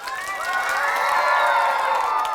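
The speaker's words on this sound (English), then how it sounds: "Clap and cheer." Crowd of children shouting and cheering together at a safe-digging ambassador event, a loud, bright burst of high-pitched voices that swells and holds for a couple of seconds.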